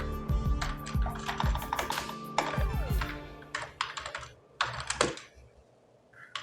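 Keys clatter on a computer keyboard during data entry in accounting software, quick irregular bursts of typing close up, with a pause near the middle and a few final taps, no speech.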